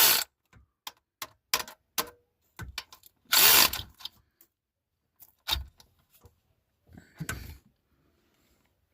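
Short bursts of a power tool tightening bolts on a Chevy truck, a rapid run of sharp buzzing whirs with pauses between, including one longer rattling burst, close and loud against a quiet background.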